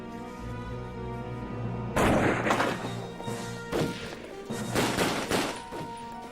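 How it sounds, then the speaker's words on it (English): A loud video-game explosion in Tex Murphy: Overseer bursts suddenly over a background music bed, followed by several further booming blasts and crashes. "Look at that explosion."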